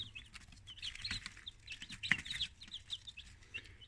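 Newly hatched chicks peep inside an egg incubator, a busy overlapping chorus of high, thin chirps with a low mechanical hum underneath.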